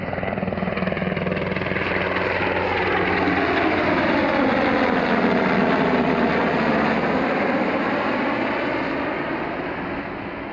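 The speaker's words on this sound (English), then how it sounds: "I didn't realize it was a military helicopter." A military helicopter passes overhead in the dunes, its loud rotor thump and engine whine swelling, holding steady, then easing off as it moves away.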